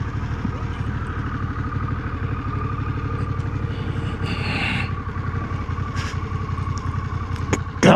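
A heavy motorcycle idles steadily at close range while it is being turned around on a ride near Lancaster's covered bridges, its low, even engine throb continuous with faint clatter and no clear talking.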